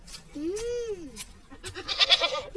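A goat tied up outside bleats in a long wavering call, followed by shorter cries amid people talking nearby.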